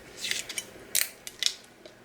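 Scissors snipping through a heat transfer vinyl carrier sheet, several short, crisp close cuts in quick irregular succession, with no talking.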